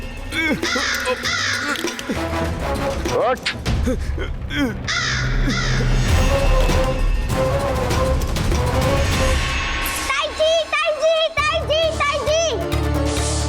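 A crow caws in a busy indoor scene, its calls mixed with children's voices, adult talk, music and a crash; the cawing comes in several bursts, loud and close.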